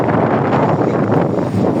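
Strong winter wind on a beach at Dunkirk during surfcasting, roaring and buffeting the microphone in a loud, continuous rumble.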